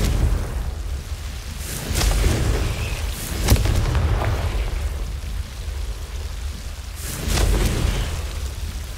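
Confringo fire spell blasts in the Hogwarts Legacy video game, several booming bursts spaced a few seconds apart over a rumbling, noisy background.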